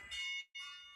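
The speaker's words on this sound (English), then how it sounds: "That was my alarm telling me to get the video started." A personal alarm goes off with two short, shrill, high-pitched electronic bursts separated by a brief gap, faint and heard alone.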